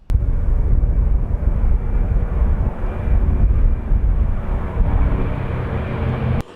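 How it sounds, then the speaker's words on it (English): A loud, steady engine roar from a vintage propeller airplane taking off holds at full power throughout, broad and rumbling, with no voices. "the plane taxied into position, providing a contrast to the big commercial jets and then lifting off smoothly"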